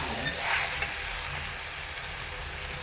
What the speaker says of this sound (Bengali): এখন আমার লুডুস রান্না হয়ে যেতেছে।